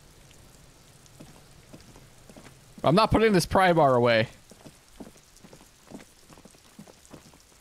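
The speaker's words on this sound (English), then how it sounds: "Rain drips from the eaves and floods the gutters, washing the filth away." Steady rain falls across a city street in the Disco Elysium video game, a soft constant patter running throughout as a voice briefly talks over it in the middle.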